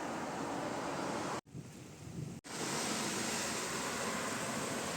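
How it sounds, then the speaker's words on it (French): Loud, steady roaring wind from a rising mountain storm buffets the microphone, briefly dropping out twice before surging back at full strength. "Il y a carrément des rafales de vent, quoi. C'est la tempête qui se lève."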